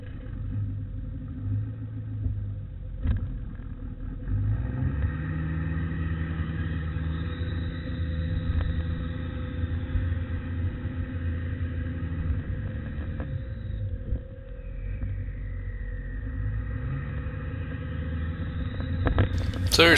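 A Ford F350 Super Duty pickup with a rebuilt Dana 80 rear differential drives on a road test: a steady low engine drone and road rumble fill the cabin, shifting slightly in pitch over time, with no talk.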